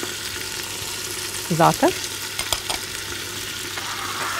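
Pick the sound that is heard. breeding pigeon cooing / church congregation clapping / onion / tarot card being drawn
onion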